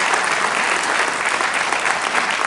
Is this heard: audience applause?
yes